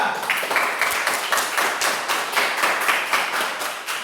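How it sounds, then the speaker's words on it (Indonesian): Classroom applause for group 3 of students, with many hands clapping in quick uneven bursts, loud and close. The clapping rises and falls in waves throughout. "beri tepuk tangan untuk kelompok 3"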